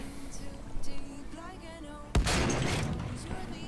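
A single loud artillery cannon blast booms midway in Battlefield V, followed by a rumbling decay, after some quieter game sounds and faint background noise.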